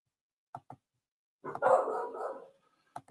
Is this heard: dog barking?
yes